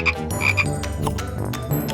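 A toddler puzzle plays a frog croaking sound, a clear, close run of repeated croaks with no talking.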